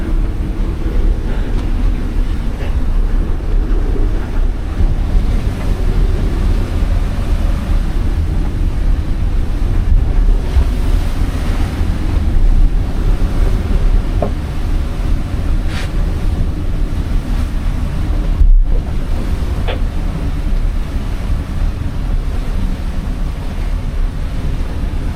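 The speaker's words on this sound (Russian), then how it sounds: "но волна накатилась и вошла над кокпитом" Strong wind and heavy ocean waves buffet a sailboat on a passage from St. Lucia to Martinique in 25-knot winds, a steady loud roar of gusts and rushing water with wind buffeting the microphone, no voices.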